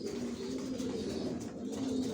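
Young racing pigeons give a low, continuous throaty cooing, a couple of birds murmuring close together in an unbroken drone with no voices.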